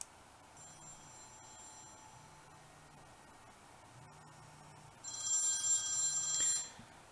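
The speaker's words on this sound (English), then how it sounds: "a phone call's coming in, and the character is answering the phone" A telephone rings in a film scene, repeated electronic ring bursts at a low level over faint background hiss, followed by a louder, brighter tone near the end.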